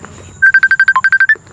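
A mobile phone rings for an incoming call, playing a loud, close run of about twelve rapid, evenly spaced electronic beeps.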